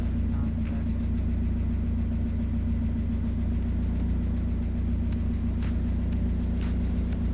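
Mazda Miata engine idling while cold, a steady low rumble with a slightly uneven pulse and occasional faint clicks, heard up close and continuing throughout without talk.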